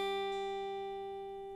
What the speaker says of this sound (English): I'm first going to strum the first string and then I'm going to hammer down with my middle finger.